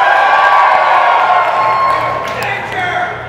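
An audience cheers at a circus stage show, a loud, dense roar of shouts and whoops with scattered clapping that eases slightly toward the end.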